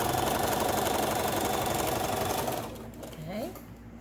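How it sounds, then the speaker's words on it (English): A sewing machine stitches quilt block fabric in a steady, fast mechanical whir that runs loud and near for most of the stretch, then stops abruptly, leaving quieter handling sounds and a brief voice. "let's start sewing"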